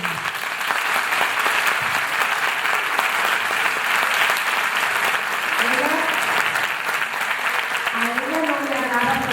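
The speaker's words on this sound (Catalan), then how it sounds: "Feu-li un gran aplaudiment" Audience at a school Christmas festival clapping in a big, sustained round of applause that fills the room, with a few voices rising over it near the end.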